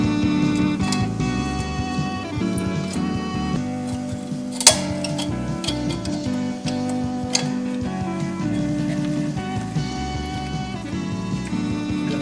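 Metal brake pad sliders for a 2005 Chevy Avalanche are pressed into place with light ticking and clinking, a few sharp metallic taps standing out over a steady background hum.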